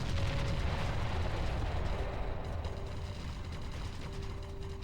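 An enemy structure collapses in the strategy game Ground Control: Operation Genesis, giving off a dense, sustained rumbling roar with a grinding, rattling mechanical texture. The sound stays loud and steady throughout and slowly thins out.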